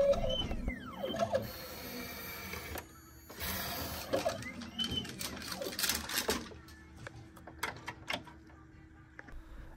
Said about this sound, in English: the machine takes the blocker and it places it right on top of the lens